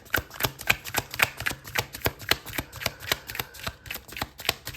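Oracle cards being shuffled by hand, some of the deck catching crosswise, make a steady run of crisp riffling snaps in a regular rhythm, close and fairly quiet, with no talking.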